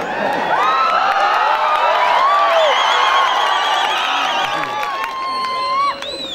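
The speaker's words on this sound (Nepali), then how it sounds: "कसैले चाहिँ नि यो मन परेर ताली बजाउँछ, कसैले मन नपरेर ताली बजाउँछ" A live audience at a Nepali comedy caricature show in a Kirtipur field cheers and claps, a loud crowd roar with whoops and shouts that continues steadily before dropping off near the end.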